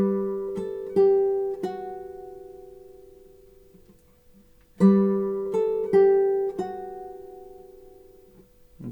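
Solo classical guitar plays two short phrases from Roncalli's Gavotte, each opening with a bright plucked chord and a few sustained notes that ring and fade, separated by a brief near-silence.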